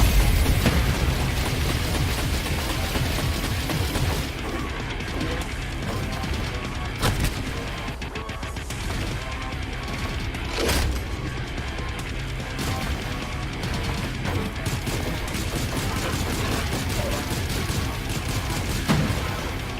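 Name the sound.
surge attack explosions in VR video game Evasion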